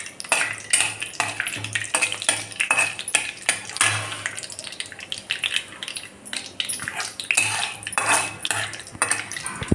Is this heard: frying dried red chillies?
yes